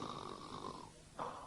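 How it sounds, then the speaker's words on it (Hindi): Snoring of a king lying in bed in a told story, a steady rasping breath that fades, pauses, then resumes with a short louder snore near the end, heard alone at moderate volume. "राजा अपने कमरे में आया और उसने अपनी तलवार खूब तेज की और बिस्तर के सिरहाने रख ली और आराम से बिस्तर पर लेटकर खर्राटे भरने लगा।"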